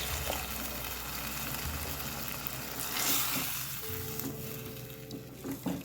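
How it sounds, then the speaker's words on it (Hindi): Half a glass of water goes into sizzling potato bhaji with masala and lemon juice in a pan, a burst of gushing hiss rising midway over the steady frying, then settling into a softer simmer. "हाफ ग्लास पानी डाल रही हूँ मैं।"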